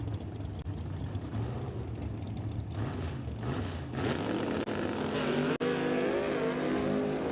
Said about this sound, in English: that is some high RPMs there from Scott Winterbottom as he rips it towards the quarter mile